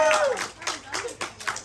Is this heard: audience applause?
yes